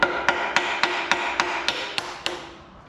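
A hammer strikes the nut on a Cummins CP3 fuel pump on a high-horsepower Cummins engine build, nine evenly spaced sharp metallic taps in a steady rhythm, close and ringing slightly.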